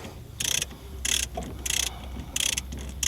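Bolts on the tail shaft of a Toyota 100 Series are undone with a ratchet, giving four bursts of bright metallic clicking at a steady interval, fairly close, over quiet workshop background.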